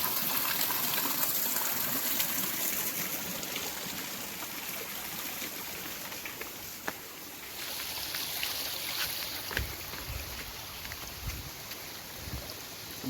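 Ghubadi waterfall in Jawhar, a hidden waterfall, pours with a steady broadband rush of falling water that fills the whole stretch, with some louder low surges near the end.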